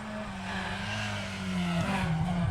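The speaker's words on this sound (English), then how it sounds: "But sounds like an escort to me" Ford Escort Mark II rally car on a gravel special stage of the Otago Rally, its engine note rising steadily as it approaches and passes close by, growing louder toward the end with a hint of tyre scrabble.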